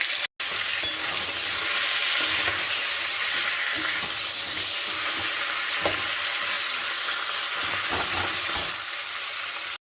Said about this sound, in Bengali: মাছের মাথাটাকে আমি এখন ভেজে নিচ্ছি